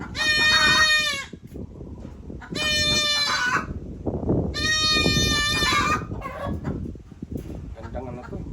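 Young goat kids bleat loudly in three long, close, strongly harmonic calls, with more faint bleats and farm noise between them; someone talks underneath during vitamin care of the week-old kids.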